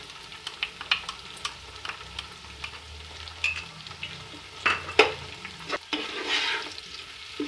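Tomato paste made from two large tomatoes fries in a pan with ginger and turmeric for a beef kachnar curry, a soft sizzle under repeated stirring scrapes and a few louder clinks of a spoon against the pot.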